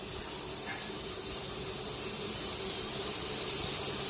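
A pressure cooker cooking goat meat lets out a continuous steady hiss of steam, fairly loud and unbroken, with no voices.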